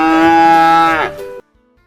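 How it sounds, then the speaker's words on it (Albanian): A single cow lets out one long, loud moo close by, a rich harmonic call that sags in pitch near its end and then cuts off into silence. "Lopa."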